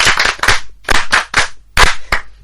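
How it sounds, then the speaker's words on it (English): Students in a French lesson clap in short, loud bursts, several separated groups of sharp claps close by, with brief silences between them and no speech. "Applaudissez-vous."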